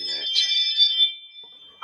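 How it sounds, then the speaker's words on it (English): A door camera's doorbell chime rings indoors, a bright electronic tone that swells and fades over about a second and a half. "No, that was the doorbell."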